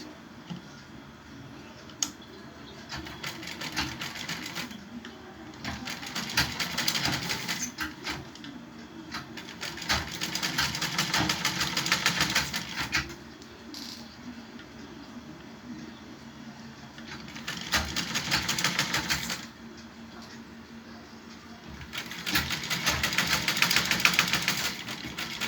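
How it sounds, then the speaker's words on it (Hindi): A sewing machine stitches a neckline facing in short bursts of rapid, rattling needle action, stopping and starting repeatedly with brief pauses between runs, close and clear with no talk. "बेटा गुलाई में थोड़ा रोक रोक कर मशीन चलानी है"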